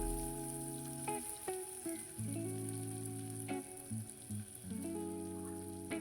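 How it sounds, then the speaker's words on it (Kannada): Chopped onion fries in oil in a cooker, a soft hissing sizzle broken by a few sharp taps and clicks, close and fairly quiet, with no one speaking. "ಹುರ್ಕೊಳ್ಳೋಣ ಈರುಳ್ಳಿನ ಎಣ್ಣೆಲಿ"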